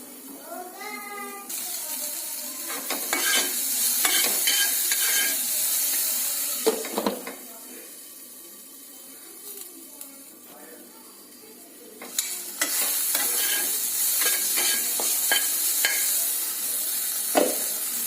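Okra fries in a covered pan, giving a steady sizzle and hiss while a utensil scrapes and stirs it in repeated bursts, loud and close.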